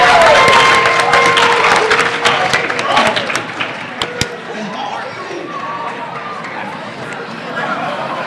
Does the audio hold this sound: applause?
yes